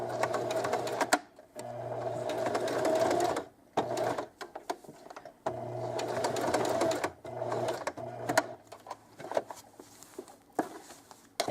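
Sewing machine stitching appliqué onto a sweatshirt, running in close, loud bursts of rapid mechanical chatter that stop and restart several times, with short gaps of fabric handling in between.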